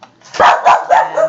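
A dog barks nearby indoors, four quick loud barks in a rapid, even series, alone with no talking.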